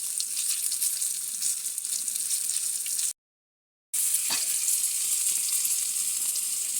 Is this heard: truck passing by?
no